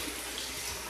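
Running tap water for hand washing, a brief, steady hiss of flow from a faucet into a sink, fairly quiet.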